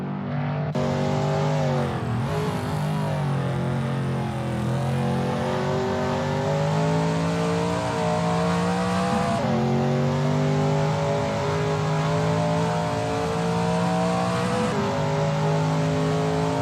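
A Shelby Mustang GT350R race car in a racing video game at Willow Springs, its engine droning loud and continuous, pitch rising as it revs through the gears with brief dips at each shift.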